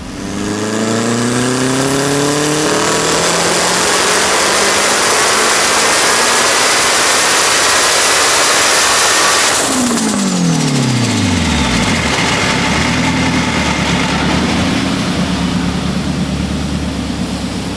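A turbocharged 2-litre Honda engine on a dyno, running on petrol at wastegate boost, screams loudly as its pitch climbs steadily for about ten seconds, then falls away into a lower, rough, drawn-out roar.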